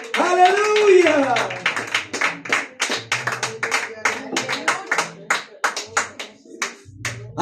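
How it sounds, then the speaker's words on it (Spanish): A congregation at a Spanish-language church service claps in a steady rhythmic beat; a voice briefly leads at the start, then the sharp, evenly spaced claps carry on for several seconds. "denle un aplauso al que vive"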